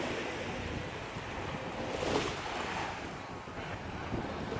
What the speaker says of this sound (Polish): idę teraz właśnie brzegiem Morza Czarnego